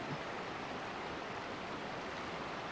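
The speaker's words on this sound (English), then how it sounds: "if you can hear the beautiful gurgle of the brook, or the creek" Oak Creek at Red Rock Crossing in Arizona, a steady, soft, even wash of flowing water heard faintly from a distance with no talk over it.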